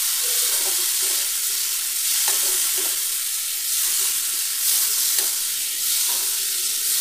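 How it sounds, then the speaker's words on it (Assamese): Pieces of fish sizzle steadily in hot oil in a pan for a fish curry, with soft scraping and shuffling as they are stirred at irregular intervals. "এতিয়া মাছকেইবোৰ দি দিছোঁ। এতিয়া মাছবোৰ দিও অলপ এনেকৈ লৰাই"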